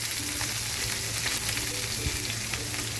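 Grated garlic and curry leaves frying in hot oil as the base for a Ravas fish masala fry produce a dense, even, close-up sizzle that holds steady throughout, with no talking.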